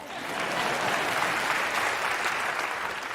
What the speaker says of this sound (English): Oh yeah, you can clap that.